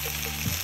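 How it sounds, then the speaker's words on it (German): Mushrooms and onions fry in a kazan, a close steady sizzle with a short stirring scrape. "jetzt kommen unsere Pilze rein zu den Zwiebeln. Auch noch durchmischen, anbraten."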